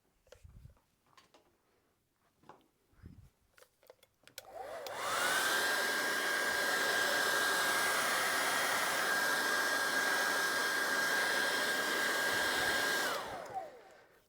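A hair dryer drying leather colour switches on after a few faint taps and blows with a loud, steady whine for about eight seconds before cutting off.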